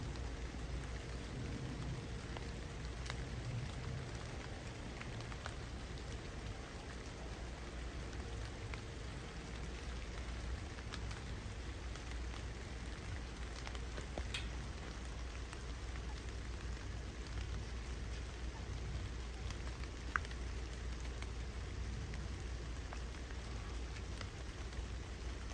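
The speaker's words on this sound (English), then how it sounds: "You've got to love the sound of the rain coming down through the trees." Steady rain patters down through trees on a marsh nature walk, a dense even hiss with occasional louder drips close by, continuing without any talk.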